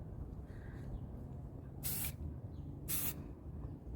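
Two short, sharp bursts from a spray can hiss about a second apart as matte black paint is applied in light coats to old rings, faint and close in an otherwise quiet room.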